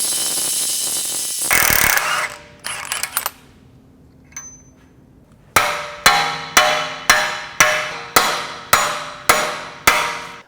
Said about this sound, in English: we can use this to hammer the axle the rest of the way out